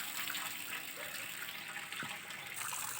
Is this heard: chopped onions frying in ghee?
no